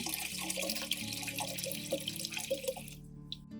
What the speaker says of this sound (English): I prepare a medium-sized pot and pour about 1 liter of water into it